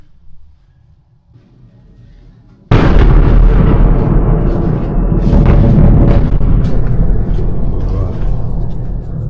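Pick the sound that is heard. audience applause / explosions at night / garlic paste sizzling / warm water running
explosions at night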